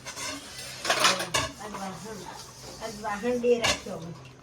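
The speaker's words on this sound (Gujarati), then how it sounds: "વાસણ બહુ છે તો આખી ખાટલી જો ધોવામાં પડ્યા" A large pile of dishes and utensils is washed by hand, with scattered clinks and clatters of metal and pots close by, over quiet running noise and some talking.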